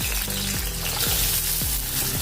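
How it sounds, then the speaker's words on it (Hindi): Onions dropped into hot oil frying for a vegetable bhaji, a close, steady sizzle with several low clunks and scraping sounds as the pan is handled. "अभी तेल गरम हो गया है, इसमें अभी हम प्याज डालेंगे।"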